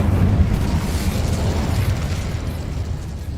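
A loud, roaring blast of the Incendio fire spell in Hogwarts Legacy, a continuous whooshing burst of flame that swells at once and tapers slowly over a few seconds.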